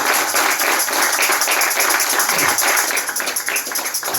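A church congregation claps for the Lord during a worship service, a close, busy patter of many hands that holds steady and thins slightly toward the end.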